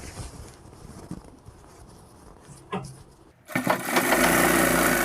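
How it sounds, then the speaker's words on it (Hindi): A sewing machine stitches a half-elastic pant. Quiet handling noises come first, then the motor starts about two-thirds of the way through and runs loud and steady to the end, with no talk. "हम अच्छी तरीके से यहाँ पर इसमें सिलाई लगा लेंगे"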